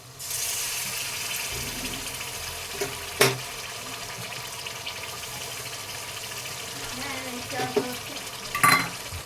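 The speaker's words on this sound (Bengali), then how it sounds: "এবার আমি এখানে আদা রসুন বাটা দিয়ে দেব" Ginger-garlic paste frying with onions in a pan for chicken biryani, a continuous close sizzle with a few louder scraping stirs and clunks near the end, no talking.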